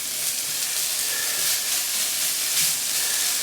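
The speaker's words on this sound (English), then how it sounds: "So get these onions just a little bit caramelized." Onions sizzle steadily in a hot frying pan as they caramelize for fried rice, a soft continuous hiss with no talking.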